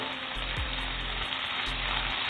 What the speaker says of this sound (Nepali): प्याज यतिको फ्राई भइसकेपछि चाहिँ मैले यो ब्रोकौलीलाई एड गरेँ।